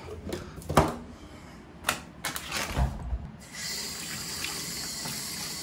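A bleached hair sample is rinsed under a running tap, with a few knocks and splashes before a steady hiss of water sets in, close and fairly loud.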